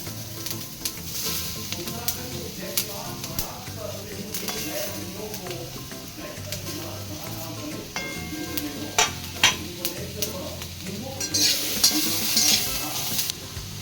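Capsicum sizzling in butter in a pan for veg noodles, a soft steady frying hiss broken by scraping stirs and clinks of a spoon against the pan, close and fairly quiet.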